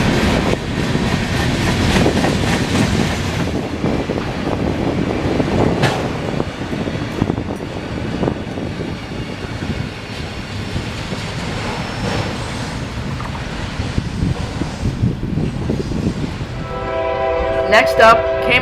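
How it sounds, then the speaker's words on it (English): A yard switcher locomotive, number 8244, rolls past near Tampa with a continuous loud rumble and rail clatter, ending in a short tonal horn blast. "now is the time to service Tampa's yard switcher"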